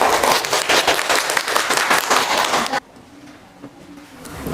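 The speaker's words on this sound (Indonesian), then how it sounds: "kasih tepuk tangan untuk kelompok 3." Group 3 gets a round of applause in a university classroom presentation session: dense clapping from a small crowd fills the first three seconds, then cuts abruptly to quieter room noise with faint scattered sounds.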